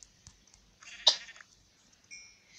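A sheep bleats once in Minecraft, a short wavering cry over quiet game background, with faint clicks around it.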